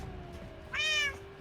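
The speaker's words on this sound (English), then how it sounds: "Ignore that cat." A cat meows once indoors, a single short, clear, rising-and-falling call close by over a quiet room hum.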